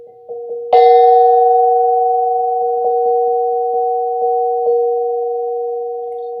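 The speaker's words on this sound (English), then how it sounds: "This is a 528 Hertz tuning fork." A 528 Hz tuning fork is struck and rings with a pure, sustained tone, lightly tapped again several times so the steady hum swells and slowly fades.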